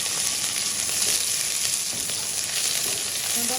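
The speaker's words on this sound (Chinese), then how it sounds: "油烧热以后，我们下入我们提前准备好的小料。" Seasonings such as scallion, ginger and Sichuan peppercorns sizzling in hot cooking oil in a wok, a loud steady crackling fry throughout with no talking.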